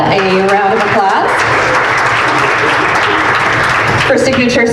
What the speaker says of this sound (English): If we can give Todd a round of applause.